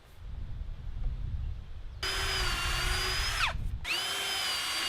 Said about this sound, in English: I'm going to drill all the holes while the boards are flat